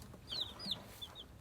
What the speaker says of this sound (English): these chickens I got, they are high produced eggs